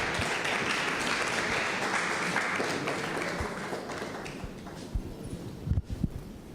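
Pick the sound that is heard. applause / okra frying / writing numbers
applause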